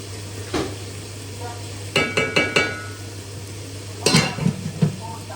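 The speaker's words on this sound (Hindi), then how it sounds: "तो यहाँ पे प्याज फ्राई हो रहे हैं" Onions fry in a pan with a low steady sizzle, punctuated by a few quick bursts of stirring and metallic scraping of the spoon against the pan, close and moderately loud.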